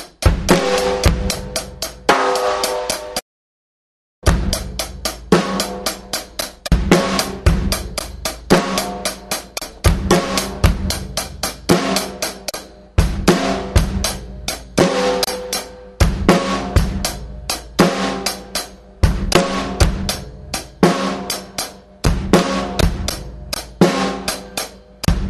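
Drum kit pattern played in triplet feel, the bass drum landing on the third triplet partial of the first and second quarter notes, with steady cymbal and snare hits; loud and close, repeating throughout with one brief silent gap near the start.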